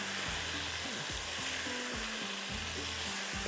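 Chickpeas with spinach and spices being roasted in a pan for a palak chana sabzi, a steady close sizzle with rhythmic scraping and stirring strokes throughout, no talking.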